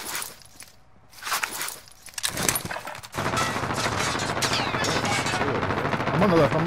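Gunfire in Call of Duty: Modern Warfare, starting with scattered shots and footsteps, then breaking into a dense, sustained barrage of rapid automatic fire that stays loud to the end, with a player talking over it.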